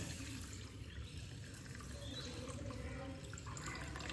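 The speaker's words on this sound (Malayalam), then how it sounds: "അപ്പം നമുക്ക് ഇതിൽ വെള്ളം ഒഴിച്ചിട്ട് ഒന്ന് കുതിർക്കണം വയ്ക്കാം." Water is poured into a bowl of rice to soak it, producing a quiet, continuous splashing trickle that stays even for several seconds with no talking.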